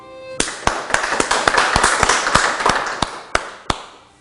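Scattered claps ring out in a church service, a few sharp hand claps at uneven intervals rather than full sustained applause, fairly close and moderately loud.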